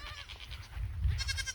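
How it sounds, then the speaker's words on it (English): Several goats bleat and holler for food on a drought-stricken farm, calls overlapping at close range over low rumbling background noise. "You can hear the goats hollering at me because they want to be fed"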